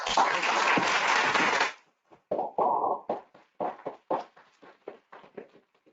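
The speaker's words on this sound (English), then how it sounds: "So another round of applause." An audience at a university talk bursts into loud, dense applause that stops abruptly after nearly two seconds, then trails off into a few scattered individual claps.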